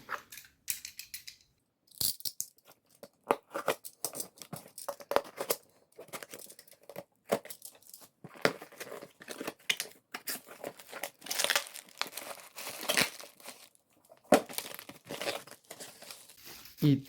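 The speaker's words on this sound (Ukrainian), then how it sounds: "наступним у нас буде ось ця от доволі невелика посилочка. Зараз ми її швиденько відкриємо" A small parcel holding a boxed 1/43-scale Kyosho model car is opened up close, with irregular bursts of crinkling, tearing and crumpling packaging over about seventeen seconds.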